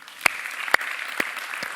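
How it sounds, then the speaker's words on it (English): A small audience gives a sparse, half-hearted round of applause, four slow separate claps spaced about half a second apart over a faint room hum. "Now that wasn't such a joyous clap like the first one. It was a bit of a sad clap"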